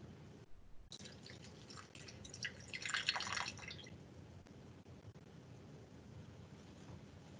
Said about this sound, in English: You can see the water is finally dripping through.